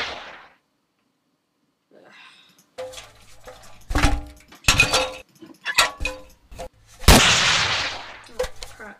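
Rocket launchers fired in the Minecraft Flans Mod, including an RPG-7, produce a string of sharp blasts and whooshes with metallic clinks after a quiet start, growing louder toward the end.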